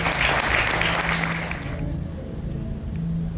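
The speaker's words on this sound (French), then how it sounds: "Applaudissez s'il vous plaît." Applause at a 90th birthday ceremony during a church gathering, a dense burst of clapping from a crowd that stays loud and continuous before thinning slightly toward the end.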